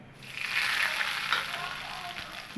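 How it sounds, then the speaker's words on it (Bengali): Asafoetida tempering in a little white cooking oil in a pan, a close, soft steady sizzle with brief crackles, fairly quiet and without talk. "2 চামচের মতো সাদা তেল, আর দেব সামান্য একটু হিং ফোড়ন দিয়ে আমি হিংটা একটু ভাজা হয়ে এলে"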